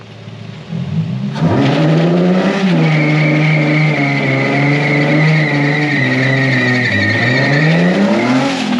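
A Nissan 350Z does a burnout in a wet driveway in the rain: after a short lead-in, a loud, sustained tire squeal and engine roar go on unbroken for several seconds, close by.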